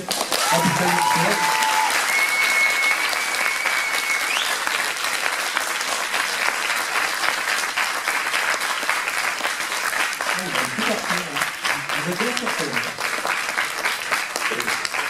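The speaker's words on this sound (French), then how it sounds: "Allez, on peut applaudir." An audience at a cosplay parade applauds: sustained, dense clapping runs throughout, with voices speaking briefly over it near the start and again toward the end.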